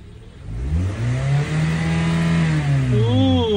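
A Kia Sportage engine revs up to about 5,000 RPM, its loud, close whine rising and holding high before easing slightly, with no talking over it.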